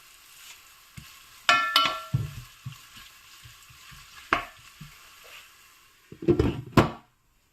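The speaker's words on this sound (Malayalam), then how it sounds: "നെയ്ച്ചോറിനുള്ള ഉള്ളിയൊക്കെ വഴറ്റാനായിട്ട് വെച്ചിട്ടുണ്ട്" Onions sautéing in a pan for ghee rice, with a soft frying hiss and scattered stirring scrapes and clatters, a few louder utensil knocks standing out near the pan.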